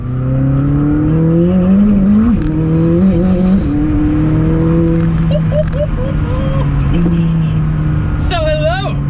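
A McLaren 600LT Spider drives on UK roads, its engine loud and close as it revs up and shifts through gears in rising and falling sweeps, ending with a brief high squeal.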